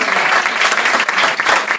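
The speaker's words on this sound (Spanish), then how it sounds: "Ese aplauso tiene que ser más fuerte porque es para el Señor" A church congregation applauds loudly and densely, many hands clapping together in a continuous close wash of sound, with a voice faintly audible beneath.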